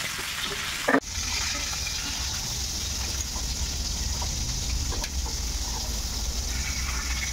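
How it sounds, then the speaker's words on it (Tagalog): Meat frying in its own rendered fat with salt and garlic, a soft steady sizzle throughout with one sharp clatter of a utensil near the start. "Pinirito ko sa sarili niyang mantika"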